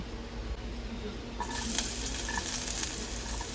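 Corned beef and potatoes sizzle in a hot pan on the stove, a steady close frying hiss that grows brighter and busier partway through.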